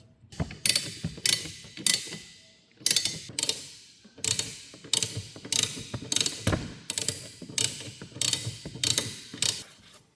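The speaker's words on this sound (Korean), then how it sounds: "요게 맞추셔서 또 볼트 조여, 조여 주시면 돼요" A ratchet tightens bolts on a car's cowl drain cover with rapid, close clicking. The bursts repeat in a steady rhythm, separated by short pauses as the handle swings back.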